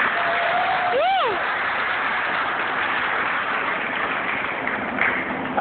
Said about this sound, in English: give a big round of applause for Liles and everything they do.